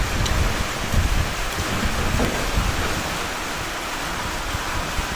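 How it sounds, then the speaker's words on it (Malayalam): Heavy rain pouring down outdoors beside a garbage area while out fishing, a dense, steady roar of rainfall that is loud and close throughout, with no voices. "നല്ല തകർപ്പ മഴ കേട്ടോ മഴ"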